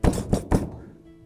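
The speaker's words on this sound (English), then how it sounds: "so banging on the door" Three heavy thuds bang on a door in quick succession, close and loud, followed by a short fading quiet.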